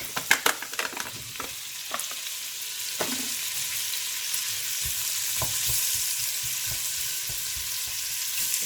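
Lardons and onions frying in butter in a pan, a steady close sizzle with scattered stirring knocks and scrapes, no voices.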